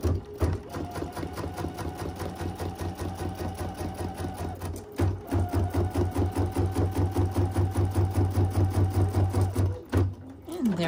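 An embroidery machine runs fast, rapid regular stitching as it sews a basting box, with a steady motor hum and two brief pauses. A voice speaks over it in places.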